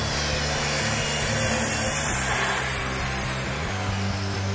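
Festool plunge-cut circular saw running a straight cut along a guide rail, a loud steady whine with a constant motor hum throughout, close up and uninterrupted.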